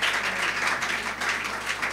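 A church congregation claps and applauds, a steady, dense wash of hands that continues without break and at an even, fairly loud level.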